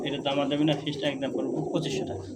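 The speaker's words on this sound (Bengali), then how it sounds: "এটা টয় লাহরি ডাকতেছে" Black toy Lahori pigeons in a breeding pair at a market stall, one giving soft, repeated throaty coos close by while people talk over them.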